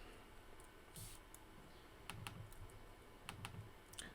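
Quiet computer keyboard typing, a few soft clusters of key clicks at an irregular pace against a low steady room hum, with no voices.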